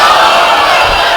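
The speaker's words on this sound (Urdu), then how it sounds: "تمام احباب اپنے اپنے ہاتھوں کو اٹھا کے نعرے کا جواب دیں گے" A large religious gathering in Gujranwala answers a chanted slogan in unison, a loud dense wall of massed voices that holds steady the whole time.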